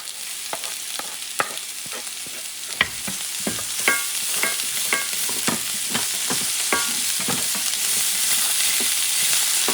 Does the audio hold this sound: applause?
no